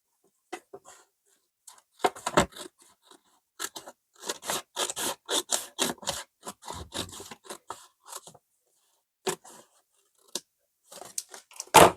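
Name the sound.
cutting a sheet of A4 paper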